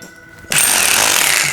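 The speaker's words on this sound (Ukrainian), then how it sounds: "спробуємо попрацювати її на двох наших перфораторах" A Tech.AS rotary hammer drill, model 352, starts up after a brief quiet moment and then hammers loudly and steadily at close range for the rest of the clip.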